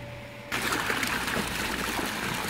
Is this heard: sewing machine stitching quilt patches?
no